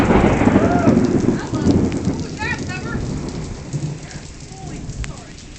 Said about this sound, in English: this is what rain looks like in this city. That's what I'm trying to get, the noise.